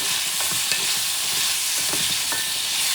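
Carrots fry in a pan in the oil and juices left by browned bison while they are stirred, a loud, dense, steady sizzle with soft irregular scraping from the stirring.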